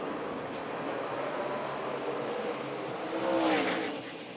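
NASCAR Xfinity Series race cars accelerating on a restart, a steady, loud roar of engines with a rising swell near the end as cars pass close by.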